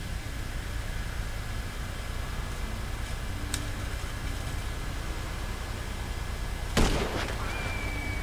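A single sharp gunshot in GTA 5 rings out against a steady hissing background, preceded by a faint smaller crack a few seconds earlier, with no talking.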